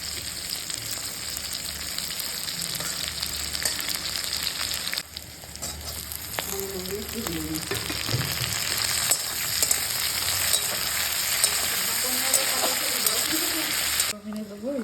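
Green chillies and chicken fry in hot oil with a loud, continuous hiss and crackle, while voices speak over it in the middle part and a stirring clatter comes through now and then.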